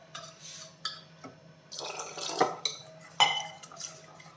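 Water poured into appam batter and mixed in a bowl, with wet splashy stirring, a few clinks of a spoon against the vessel and scattered dripping, close and fairly quiet.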